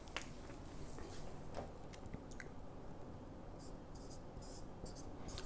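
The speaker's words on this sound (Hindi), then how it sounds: "मैं पहले तो इसके डिफाइन करने के लिए इसको एक डेफिनेशन बोर्ड पे लिखता हूँ" A marker or chalk scratches across a definition board in short, faint strokes with pauses between them, in a quiet classroom-style room.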